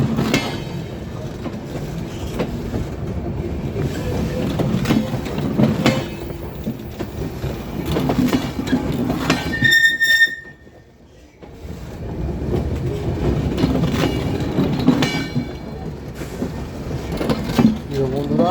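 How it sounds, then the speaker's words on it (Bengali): A long train rolls past on railway tracks, a loud continuous rumble with rhythmic clickety-clack of wheels, broken briefly by a short whistle-like tone and a quieter gap before the rumble resumes. "অনেক লম্বা ট্রেন, সময় লাগছে।"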